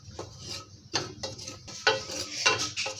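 Semolina frying and being stirred in a pan of Amway Queen cookware, an utensil scraping and clinking against the metal in irregular strokes over a low background hiss, close and fairly loud, with no talking.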